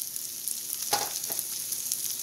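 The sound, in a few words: mushrooms, chili pepper and onion frying in a pan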